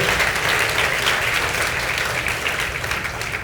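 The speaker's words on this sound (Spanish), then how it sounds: "Alguien que pueda aplaudir al Señor y bendecir a Dios." A church congregation breaks into dense, sustained applause that fills the space at close range, steady and loud throughout and easing only slightly at the end.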